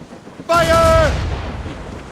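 Ship cannons boom in an Assassin's Creed Rogue naval battle, one loud close blast with a ringing tone that fades into a rumbling decay.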